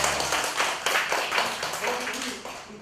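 An audience at a coaching certification lecture claps in a short burst, individual hand claps distinct and close, fading over a few seconds.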